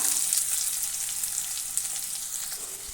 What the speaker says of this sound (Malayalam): ഇഞ്ചിൻ്റെയും വെളുത്തുള്ളിയുടെയും പച്ചമണം മാറിയതിന് ശേഷം ഇതിലേക്ക് നമുക്ക് അരിഞ്ഞു വെച്ചിരിക്കുന്ന സവോള ചേർത്ത് കൊടുക്കാം